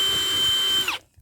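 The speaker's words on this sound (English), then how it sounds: "And now we're just going to drill the last hole." A power drill bores through a polycarbonate sheet for an outdoor projection screen, whining steadily close by before it winds down and stops.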